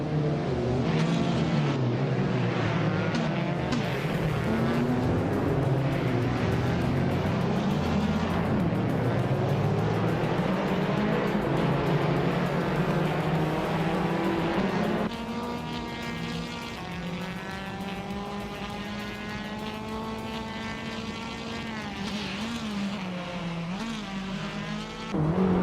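Pack of video game race cars holding a steady, loud engine roar with shifting pitch as they run close together, a continuous droning sweep without talk.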